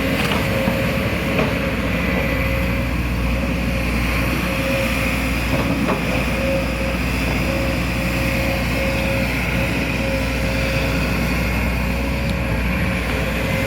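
A Sumitomo SH210F6 excavator, a 20-ton machine with a four-cylinder 159.5 hp engine, idles smoothly with a steady low rumble and a constant hum. It runs alone, loud and unbroken, with no voices.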